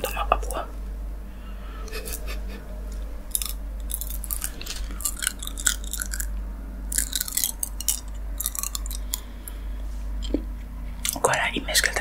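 Close-up chewing of collectible candies during a whispered ASMR tasting, with irregular crunchy, wet mouth sounds and soft clicks over a low steady hum, and quiet whispering in between.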